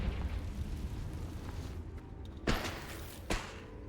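Confringo blasting spells in Hogwarts Legacy land as two dull, booming explosive thumps over a rumbling, noisy game background.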